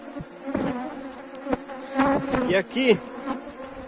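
Honeybees buzz around a hive at an apiary, a close, wavering drone that rises and dips unevenly, while someone speaks briefly in Portuguese over it.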